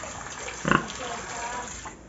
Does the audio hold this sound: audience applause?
no